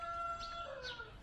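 Chickens give a few short, faint clucks and calls over a low background hum, with no talking.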